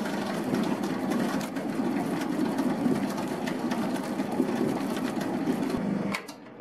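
A dough mixer machine kneads bread dough with a steady, loud motor whir and rhythmic mechanical churning that runs continuously, then cuts off abruptly near the end.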